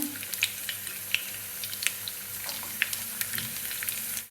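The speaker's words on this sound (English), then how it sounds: "So put all the garlic in the pan." Garlic fries in hot oil in a pan over low to medium heat, giving a continuous fine crackling sizzle with small pops scattered throughout, close and steady with no talk.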